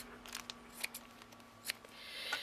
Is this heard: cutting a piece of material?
yes